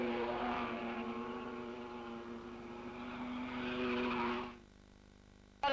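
Sports cars racing at Gamston circuit, with a sustained, loud engine whine and tire squeal that rises then cuts off abruptly near the end, followed by a brief sharp sound.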